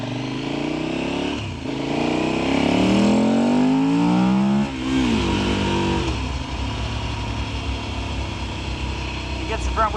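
A KTM 1290 Super Adventure motorcycle on a road in South Hawai'i revs hard, rising in pitch as it accelerates through a wheelie, shifts, and pulls again, loud and close with steady wind rush.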